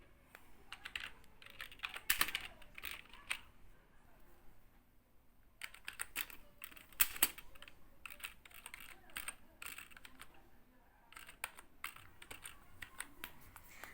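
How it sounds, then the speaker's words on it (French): Irregular keyboard typing, with bursts of clicky keystrokes and short pauses, fairly close and moderately quiet, with no talking. "Essayez d'écrire avec vos deux mains sur le clavier."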